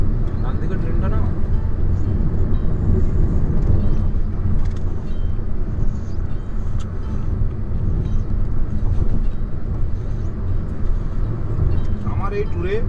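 A train runs beside the road near Kharagpur, a continuous low rumble blending with vehicle road noise, while people talk throughout.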